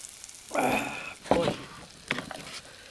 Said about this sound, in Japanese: むき肩肉生姜焼きいい感じこれ